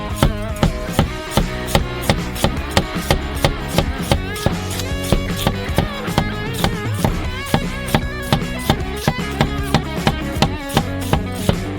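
A knife chops food in steady, evenly spaced strokes that land like sharp taps, heard under continuous background music.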